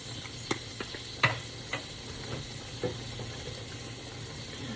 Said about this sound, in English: I'm just going to get that all sauteed down a bit.